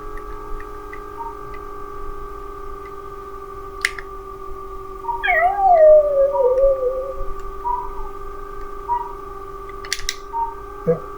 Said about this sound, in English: the neighbor's dog is now howling